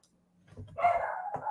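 A dog barks once or twice indoors, a faint muffled bark that rises into a short yelping tone, with near silence before it.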